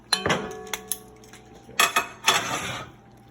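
Kitchen dishes clink and knock as a small bowl is grabbed from among them, a few sharp ceramic clatters spaced irregularly, close and fairly loud, with brief ringing.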